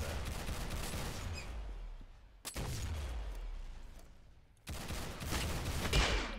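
Rapid bursts of gunfire from a zero-recoil gun in a Roblox game, sustained automatic volleys broken by short pauses and sharp onsets, fairly quiet overall.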